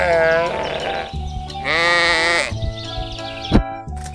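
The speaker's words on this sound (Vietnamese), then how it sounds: "Con cừu." A sheep bleats several times in quick succession, clear and close, with wavering drawn-out cries separated by brief pauses and a short thump near the end.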